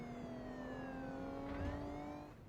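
An ambulance siren in the video game Act of War: Direct Action wails, sweeping up and down continuously, loud and fairly close, with a steady engine drone beneath it and no voices.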